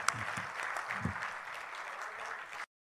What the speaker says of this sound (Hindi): तालियां बजाएं एक मरतबा जोरदार इकबाल अशर साहब के इस्तकबाल में।